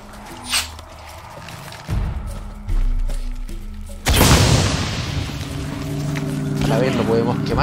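Heavy explosion in Shadow of the Tomb Raider, with a booming blast midway after a few smaller thuds, followed by a rumbling, hissing aftermath; someone talks over it.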